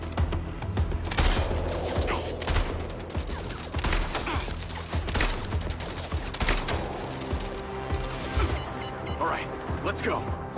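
Rapid gunfire bursts and heavy impacts in the shooter game Mind's Eye, dense and loud throughout, with a voice talking over the shooting.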